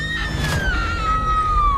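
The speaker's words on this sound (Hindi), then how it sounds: "कुछ देर बाद उसे उसकी बीवी की एक चीख सुनाई दी।" A woman's drawn-out scream, used as a horror story sound effect, rises sharply and then slides slowly downward in pitch. It is heard alone against a low, dark ambient rumble.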